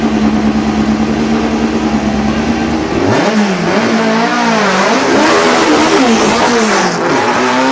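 A drag racing car launches hard off the starting line at a 2006 Silver Dollar Showdown drag strip, its engine roaring loud and rising in pitch, then wavering as the car stands up in a wheelie and pulls away.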